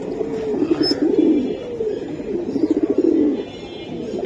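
A pair of silver Giribaz pigeons coos close and loud, repeating rolling, throaty calls in a steady rhythm with no talking over them.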